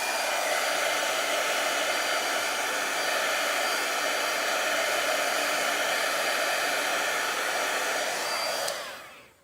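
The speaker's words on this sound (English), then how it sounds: "using my heat gun" A heat gun blows a steady, loud, close whooshing roar while drying freshly stamped ink, running unbroken for several seconds before switching off abruptly at the end.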